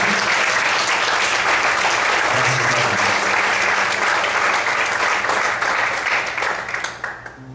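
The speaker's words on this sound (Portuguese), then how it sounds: "Você pode aplaudir o Senhor nessa noite?" Church congregation applauding at an evening service, a dense, loud and steady wash of clapping from many hands that fades out at the end.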